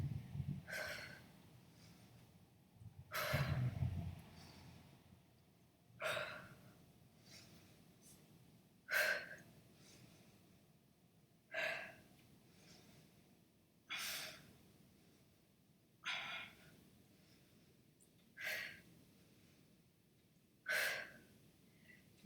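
Heavy rhythmic breathing during an ab workout, inhaling through the nose and exhaling through the mouth: about ten strong, close exhales spaced a couple of seconds apart, with quiet gaps between and no talking.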